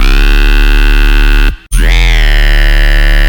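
A heavy, sustained dubstep synth bass tone from a Serum preset, thick and buzzing with rich overtones, cuts out briefly midway and then returns with a sweeping filter.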